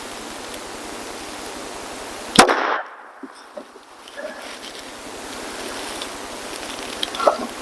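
A Ruger Mark IV target pistol fires one sharp, loud shot outdoors, followed by a short fading echo and a much fainter crack later, over steady wind-like background noise.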